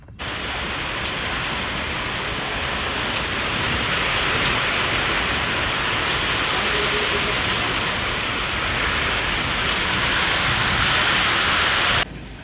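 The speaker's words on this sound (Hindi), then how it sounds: "एकदम से आंधी तूफान आ गया बहुत गंदा" Heavy rain from a sudden storm pours down steadily at a workshop, making a loud, dense, continuous hiss that cuts off abruptly at the end.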